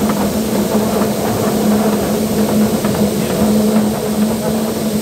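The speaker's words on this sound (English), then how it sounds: "Just fired up the generator to unload these wagons." A generator drones steadily on a farm during wheat harvest while wagons are unloaded, giving a constant, fairly loud engine hum with a low tonal whine and no change in pace.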